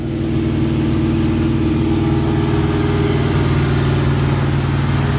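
A small 312 engine running in a Box Chevy, a loud, steady, close rumble with an even throb and no pauses.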